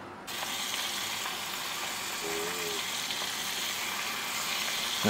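Food deep fries in hot oil, a steady close crackling sizzle that runs continuously, with a brief faint tonal sound partway through.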